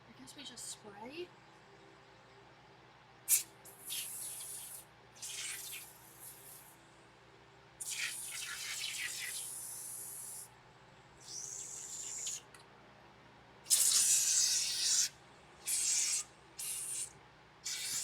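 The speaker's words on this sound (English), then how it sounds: "I guess we just spray." Spray bursts from a sprayer hitting wiring and metal parts during welding prep and cleaning, several hissing blasts of a few seconds each separated by pauses, fairly close and loud.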